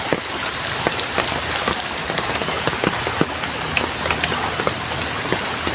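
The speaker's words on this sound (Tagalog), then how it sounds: "nagpayong tayo at hindi pa natigil ang ulan" Heavy rain pours down during a flood, a dense steady hiss with scattered sharp drop impacts, close and continuous with no talk.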